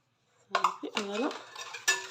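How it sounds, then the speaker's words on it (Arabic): Yogurt and semolina being mixed in a bowl, a brief clatter of a utensil scraping and knocking against the dish, close and quiet. "نخلط كذلك هاد الياغورت، وغادي نضيف السميده تدريجيا."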